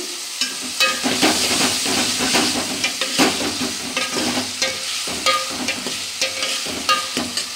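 Onions and potato pieces fry in a pan with a steady hiss and sizzle while a utensil stirs them in repeated scraping strokes, close and continuous.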